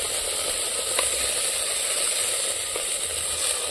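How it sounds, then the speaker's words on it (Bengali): Spice-infused water poured into a hot pan with fish sizzles steadily, a dense, even hiss that holds at a constant level throughout with no talk. "এবার সেই মশলা গলা জলটা দিয়ে দেবো, আর একটু জল দিয়ে দেবো।"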